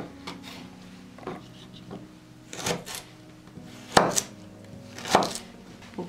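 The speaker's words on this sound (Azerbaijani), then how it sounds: "Bir dənə də kök doğrayıram, əziz izləyicilər. Köklərini bu qaydada nazik doğrayırıq." A knife chops carrots thinly on a cutting board, giving sparse, irregular thuds and sharper knocks spread over several seconds, with soft scraping between strokes and a quiet kitchen background.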